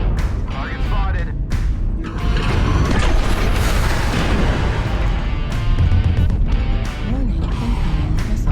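Missile impacts and explosions in the giant-robot combat game MechWarrior Online, heavy booms and rumbling blasts piling up over several seconds alongside mech machinery noise and a synthetic warning voice.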